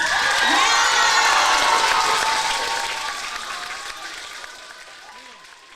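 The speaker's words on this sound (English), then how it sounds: "give them another really big round of applause" A large crowd at the Java Jive 2024 event gives a loud round of applause mixed with cheering and whoops, strongest at the start and slowly tapering off.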